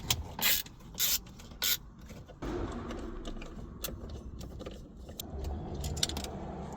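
Small screws being worked out of the radio unit in a BMW F20/F21/F23 dashboard, giving quick metallic clicks and ratcheting rattles in short bursts before a steady rustle of handling underneath.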